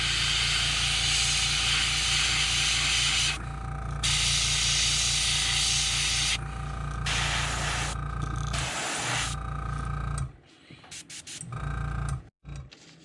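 An airbrush sprays paint to shade around the eye of a crankbait lure being painted in a golden shiner pattern. It gives a steady, close hiss over a rhythmic pulsing hum, then cuts out in brief stops near the end.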